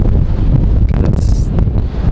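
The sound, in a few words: strong wind blowing in a garden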